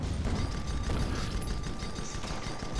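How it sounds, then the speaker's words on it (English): Repeated metallic knocks and ratcheting from a wrench striking and repairing airship parts in the video game Guns of Icarus, set against a dense, steady wash of engine and battle noise, with no talk. "I run around beating things with a wrench."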